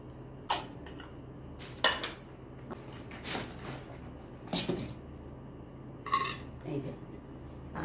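A ceramic dinner set of plates and bowls handled, giving a few sharp clinks and knocks spaced out over several seconds, close by, with faint talk underneath.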